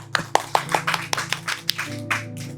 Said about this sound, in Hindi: आइए हम खुदा के लिए ताली बजाएं।